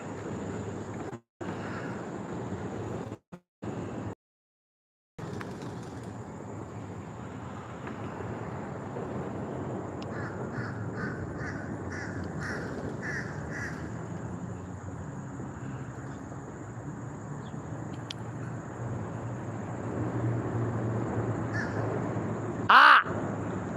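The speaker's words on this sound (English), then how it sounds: "Hello, crow buddy." A crow caws several times at a distance over a steady outdoor hum of wind or traffic, with a few short drop-outs and a sharper bright call near the end.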